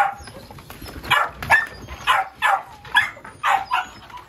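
American Bully puppies with merle ticked coats bark in a string of about eight sharp, close yips and barks in a steady rhythm, fairly loud, with no talking over them.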